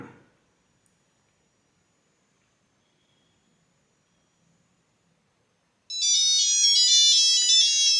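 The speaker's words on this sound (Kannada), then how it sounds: "ನೋಡ್ತಾ ಇದ್ದೀರಾ, ಫೋನ್ ಕಾಲ್ ಬರ್ತಾ ಇದೆ" After several seconds of near silence, a Nokia 3310 mobile phone ringtone starts up loud and close for an incoming call, a bright repeating electronic melody playing on alone.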